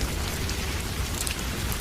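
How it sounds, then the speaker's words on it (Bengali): Rain falling steadily outdoors under dark clouds and a cool breeze, a dense, even hiss of drops on surfaces holding at a constant moderate level throughout, with no voices. "একথা ভাবতে ভাবতেই বৃষ্টি শুরু হয়ে গেল"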